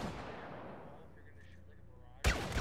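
Blaster fire on Hoth in Star Wars Battlefront: a decaying boom, then a sharp loud shot near the end, with a voice faintly underneath.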